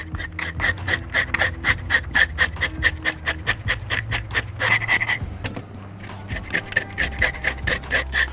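A cold flounder is scaled on both sides with quick, rhythmic rasping scrapes, close and crisp, in repeated strokes. After a short pause the strokes resume.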